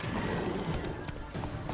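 Horse hooves pounding at a gallop in The Witcher 3: Wild Hunt, a dense, steady clatter mixed with busy game noise throughout, with no clear neigh and no talking.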